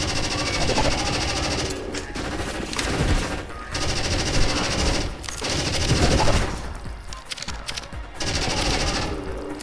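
Enemy robots and humanoids fire guns in a shooter video game, with dense, continuous gunfire bursts, loud and close, broken by brief dips before the shooting resumes.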